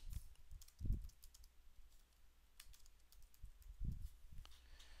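Soft, close keystrokes on a computer keyboard patter in irregular bursts, quiet and alone, as text is entered into a web form.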